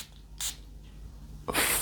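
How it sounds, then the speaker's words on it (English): A long perfume bottle's atomizer pressed by finger gives two short, breathy hisses of spray, one brief and one longer at the end, close and fairly clear with no talk. "I have to spray it with my thumb practically"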